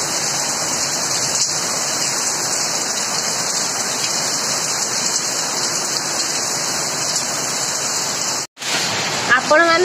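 Heavy hailstorm in Kolkata, a dense, loud, continuous hiss of rain and falling hailstones that stays steady throughout and cuts out briefly near the end.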